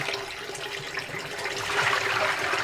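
Starchy water drains and splashes out while vegetarian pork sausage filling is made, a steady moderate trickling and pouring wash that swells slightly toward the end.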